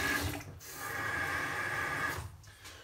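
Water pours steadily from a tap into a container for about two seconds, bracketed by short handling noises, close and moderately loud with no talk.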